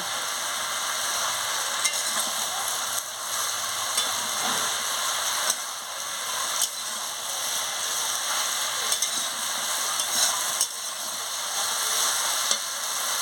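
Raw pumpkin curry sizzles steadily in a pan, a constant close frying hiss broken by occasional stirring scrapes, with no voices.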